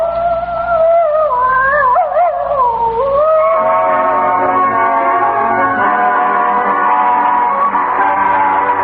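A hound baying across the hills as a radio drama effect, one long, loud, wavering howl that bends in pitch early and then settles into a sustained mournful tone, heard alone.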